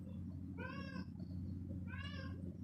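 Cats in a garden give two clear meows about a second apart, moderately near, over a constant low hum in the background.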